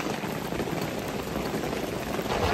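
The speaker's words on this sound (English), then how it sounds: "It is hailing." Hail falling outdoors at a shooting range, a dense, continuous patter and clatter of ice on surfaces, loud and close, growing slightly toward the end.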